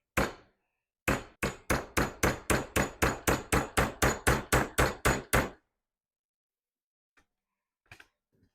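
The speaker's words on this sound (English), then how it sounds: "So back to the vise and the hammer." A Springfield XD pistol sight being driven with a hammer and brass punch in a vise: one lone strike, a pause, then about fourteen rapid, evenly spaced metallic blows, followed by silence and a few faint taps.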